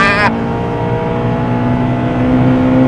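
A Honda Civic Type R EP3 engine revving as it accelerates, a steady droning tone held from close by under faint cabin noise after a brief higher whine at the start.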